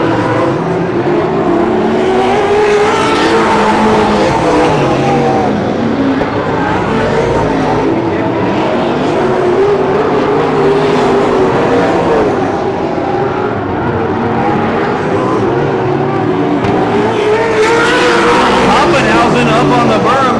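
Late model race cars roar around a dirt track during a 50-lap A main, engines droning loudly and continuously with rising and falling pitch as cars pass, under a commentator's voice.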